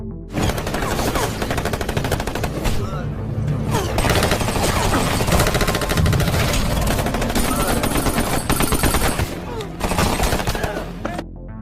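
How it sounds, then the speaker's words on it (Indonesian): Sustained heavy gunfire in a film, rapid bursts and volleys of shots firing nearly continuously over a dense, loud background, with no pauses for the full stretch. "di markas Nicole dan beradu tembakan dengan pasukan yang diutus oleh Murphy"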